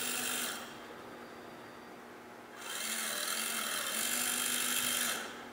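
A ServoCity SPG5685A servo power gearbox on a 6-volt supply rotating, a faint high electric whine in bursts that start and stop several times, with no talk.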